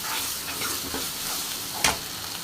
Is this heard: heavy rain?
no